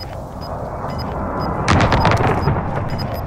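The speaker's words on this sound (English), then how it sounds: "Be advised, friendly precision airstrike inbound" Video game precision airstrike explosions: a low rumbling blast builds around the middle and rolls on loudly, with repeated short electronic tones chirping above throughout.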